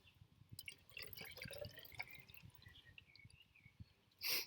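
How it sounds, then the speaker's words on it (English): Water trickles and drips into a soil sample jar, a close splashy pour with uneven spatters that ends in a brief louder burst. "I'm going to put my second known mass of water in."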